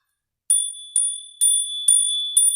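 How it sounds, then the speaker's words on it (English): A small bell is struck five times in an even rhythm, each bright, ringing tone loud and close, alone in an otherwise quiet room. "Let me hit the bell."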